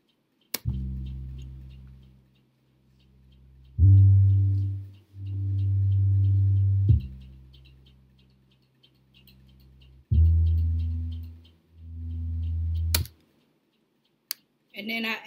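Deep, booming bass notes sound in short phrases separated by gaps, with faint ticking hats and a few sharp clicks in a sparse electronic groove.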